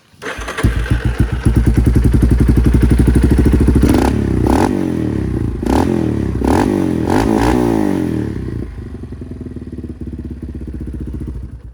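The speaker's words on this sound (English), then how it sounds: "It also has a HMF exhaust. Sounds really good." A Yamaha Raptor 350 ATV engine with an HMF aftermarket exhaust starts with a throaty, loud exhaust rumble, gets blipped through several sharp revs, then settles back to a rough, steady idle up close.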